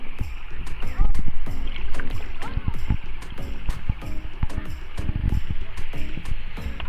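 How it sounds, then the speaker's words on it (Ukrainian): A kayak rides small rapids in the Dniester river canyon, water slapping and gurgling against the hull with irregular paddle splashes close by, while a voice talks over the flowing current. "Тут знову невеличкі перекати. Пішла хвиля, течія пришвидшилась."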